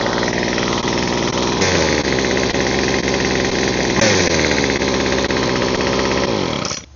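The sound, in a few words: weed eater engine running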